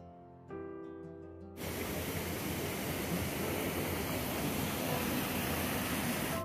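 Waterfall in the Lake District heard from a small bridge, a broad, steady rushing roar that starts suddenly and continues without a break, loud and close, with no talk over it.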